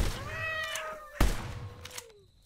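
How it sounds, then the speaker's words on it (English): A cat meows in a farming-simulator horror game, a few drawn-out, wavering cries close up, broken by a sharp thump partway through before the last meow trails off. "Is that a cat?"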